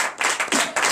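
In a church, a few sharp, close handclaps ring out in a quick, uneven rhythm, loud and brief, with no cheering audible.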